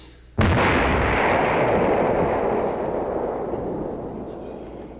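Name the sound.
vocal imitation of explosions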